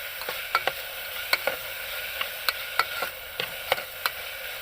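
Sliced onions sautéing with a pinch of salt in a pan for a Kerala-style potato curry, a steady low sizzle broken by repeated sharp scraping taps of a stirring spoon.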